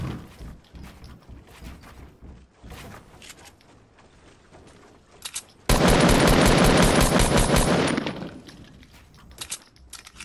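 Gunfire in the Fortnite battle royale game on PS4: scattered single shots give way to a loud, dense burst of rapid automatic fire lasting about two seconds, then more sporadic shots trail off.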